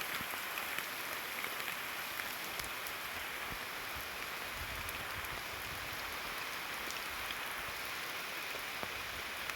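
Heavy rain pours steadily outdoors near misty hills at a cowshed in Kodakara, Thrissur, a dense continuous patter with scattered sharper drop hits throughout, and no voices.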